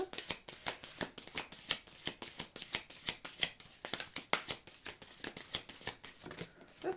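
Oracle cards are shuffled by hand in a quiet room, a soft rapid riffling in irregular bursts that continues for about seven seconds, close and gentle with no talking.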